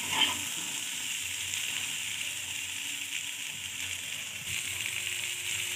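Green peas tossed with spices in a hot pan give a steady close sizzle with soft stirring scrapes, continuous throughout and no voices.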